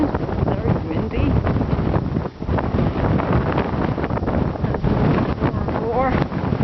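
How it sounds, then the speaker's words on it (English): Strong wind buffeting the microphone near the summit of Mount Jefferson, a continuous loud rumbling roar with gusty surges, with brief voices faintly audible underneath. "It's very windy."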